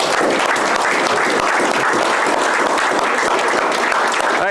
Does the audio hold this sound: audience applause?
yes